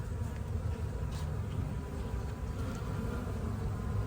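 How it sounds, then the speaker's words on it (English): A thriving beehive hums with a dense, steady drone of many bees, loud and close throughout with no pauses. "That is a happy beehive."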